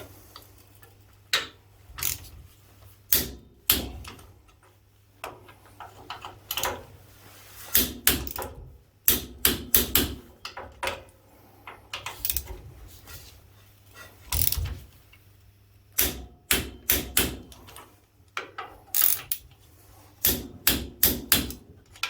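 A torque wrench clicks while M10 cap head bolts are tightened to 81 Nm during brake repairs on an Ifor Williams trailer, giving sharp ratcheting clicks in short bursts separated by pauses, close and fairly loud.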